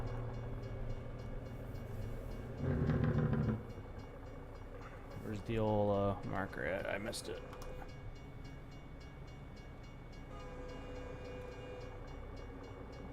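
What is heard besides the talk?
train horn honking at night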